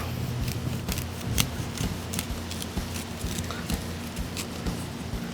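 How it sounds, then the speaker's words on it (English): A chef's knife working down a grilled corn cob stood on end, cutting off the kernels in a series of quick, close crisp slicing clicks over a steady low background hum. "I just stand it up on end, take my chef's knife, and just work my way down"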